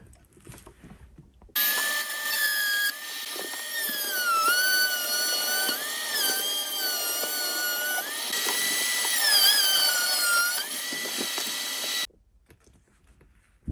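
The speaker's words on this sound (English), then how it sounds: "now all I got to do is drill some holes" A power drill whines steadily for about ten seconds, drilling bolt holes in a flange and cross member of a model RC army truck, its pitch rising and dipping as it bites, with brief quiet before and after.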